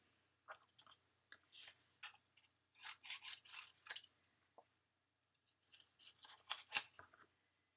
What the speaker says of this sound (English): cut some of this off